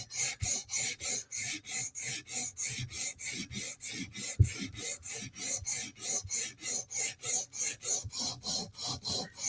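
A Tanto M4 PM2 knife edge is drawn across a sharpening stone in steady, evenly spaced rasping strokes, about two per second, close and unaccompanied.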